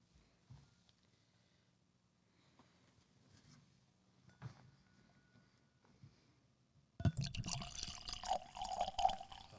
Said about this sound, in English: Listen to the pour.